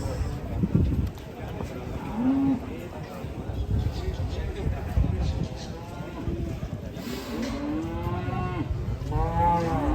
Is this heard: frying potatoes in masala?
no